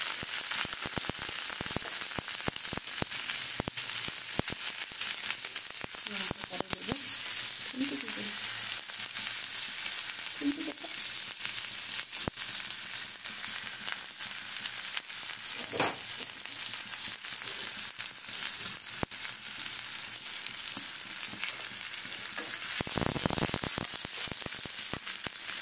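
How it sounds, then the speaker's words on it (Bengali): Garlic and ginger frying in hot oil, a continuous bright sizzle with occasional stirring scrapes and a few brief faint voice sounds, close and steady throughout. "তেল দিলাম, তেল দেওয়ার পর এবারে দেখো প্রথমে রসুনটা দেবো, রসুন আর আদা দিয়ে দেবো"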